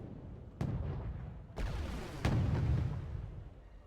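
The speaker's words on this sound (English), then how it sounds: "Exchanging shots" Tank cannons trade fire in the Wargame AirLand Battle strategy game, with T-80U, T-72A and Leopard 2A4 tanks engaged; three heavy booming shots ring out about a second apart, each trailing into a rumbling decay.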